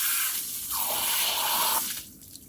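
Pressurised water sprays over a part being rinsed clean during a cleaning job, a steady hissing burst of about a second close by, then trailing off into dripping and quieter water.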